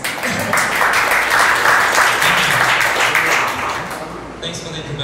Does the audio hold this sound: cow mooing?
no